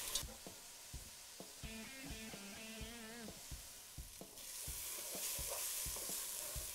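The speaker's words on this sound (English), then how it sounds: "and onions to the pan with our pancetta to wilt down till nice and soft" Onions and vegetables sizzle with pancetta in a pan, a steady frying hiss broken by repeated scraping stirs; a brief hum-like tone rises midway, and the sizzle grows brighter toward the end.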